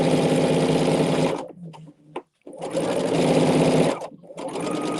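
A sewing machine strip pieces quilt fabric, running in loud continuous bursts that stop briefly twice, with a short quiet gap in between before the stitching resumes.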